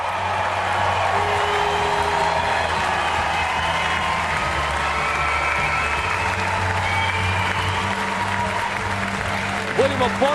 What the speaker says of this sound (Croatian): Još jedan aplauz za Irance